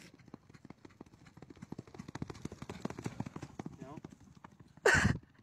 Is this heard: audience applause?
no